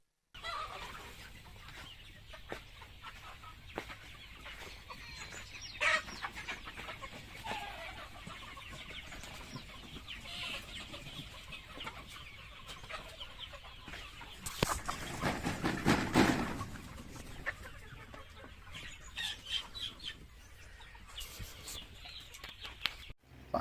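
Native country chickens in a poultry shed housing about 3,500 birds, clucking continuously in a faint, distant-sounding background with occasional louder bursts and scattered clatter.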